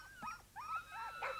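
A sled dog from the 1965 Sirius patrol whimpers and yips close by, a string of short, high, whiny cries rising and falling in quick succession over faint background noise.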